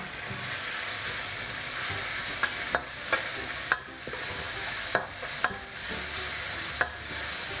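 Shrimp paste, chili and pounded garlic sizzle loudly with shallots in a pan, a steady hiss of stir-frying broken by sharp scrapes and taps of the spatula, for a stir-fried stink bean dish with shrimp and minced pork.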